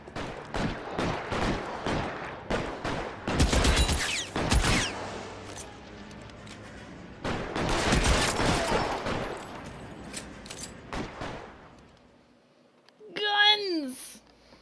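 Gunfire rattles in the crime video game L.A. Noire, with bursts of rapid shots in clusters, some close and loud, between stretches of talking and a brief squeal near the end.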